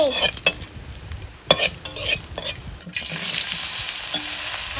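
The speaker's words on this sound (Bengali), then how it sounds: "এখন দিয়ে দিচ্ছি জিরা আর এখন এই যে দিয়ে দিচ্ছে লঙ্কা ফোড়ন হয়ে যাচ্ছে" Cumin seeds and chili sizzle in hot oil as a spice tempering for a rohu fish curry, with a bright steady crackle, several sharp clinks of a spoon against the pan early on, then a denser continuous fry.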